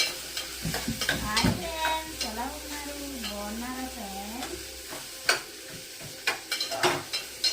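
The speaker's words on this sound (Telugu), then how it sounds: "చూడండి ఫ్రెండ్స్ ఏపిల్ సేమియా టమాటా ముక్కలు ఉల్లిపాయలు ఫ్రై అవుతున్నాయి" Tomato pieces and onions fry in a pan for a semiya dish, giving a soft continuous sizzle with sharp clinks and scrapes of stirring. A faint voice and a wavering tone rise above the sizzle partway through.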